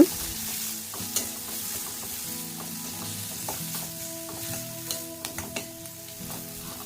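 Onion, green chillies and turmeric fry in hot oil for a drumstick-leaf palya, a soft continuous sizzle broken by scattered clicks and scrapes of a spoon stirring the pan, with no talking.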